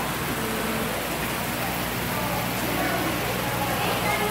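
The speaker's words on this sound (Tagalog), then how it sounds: "Ang lakas ng ulan." Heavy rain pours steadily outside a school canteen, a dense, even roar of falling water that fills the whole stretch at constant loudness with no breaks.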